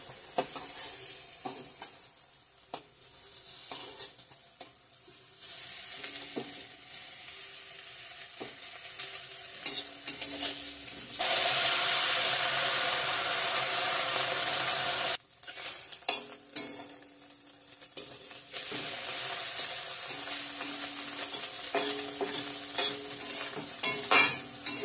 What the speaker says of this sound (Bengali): পটল সুন্দরী ভাজা।